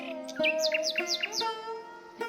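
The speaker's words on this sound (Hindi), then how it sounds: "चिड़िया डाल पर चहचहा रही हैं।" Several quick bird chirps in a rapid, repeating series, close and clear, over a quiet background.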